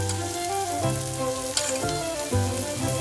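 Paprika and cumin bloom in hot oil for shakshuka, giving a loud, constant sizzle that crackles close by with a few stir sounds. No one speaks.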